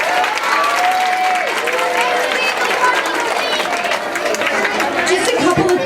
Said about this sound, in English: by giving our third grade students a round of applause.